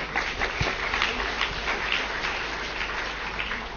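Audience applause at an ecosystem services policy conference, a steady dense patter of many hands clapping for the whole stretch, fairly even in loudness with no speech over it.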